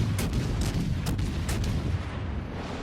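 The guns of the American light cruiser USS Helena fire in World of Warships, booming in a rapid run of heavy, rumbling salvos over a continuous dense roar.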